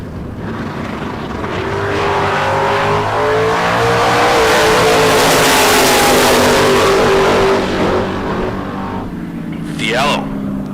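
Drag race cars launch at a K&N bracket race, a Torco Fuel sponsored Firebird and a 1982 Camaro, engines roaring loud and sustained with rising revs and tire noise, under a track announcer's voice.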